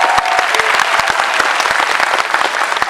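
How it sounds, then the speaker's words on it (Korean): Dense audience applause fills a packed cinema at a fan screening of Parasite with its cast present, a continuous clatter of many hands sustained loudly throughout. "그 고난을 뚫고 우리한테 정말 나이스한 연기를 보여주신 배우분들께 다시 한번 박수"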